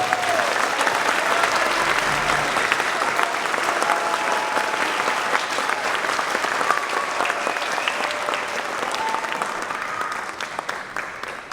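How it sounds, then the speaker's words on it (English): Audience applause at a district school music festival greets guest conductors as they come onto the stage. The clapping is dense, loud and steady for the whole stretch, with no voices over it. "Can we get a round of applause for them?"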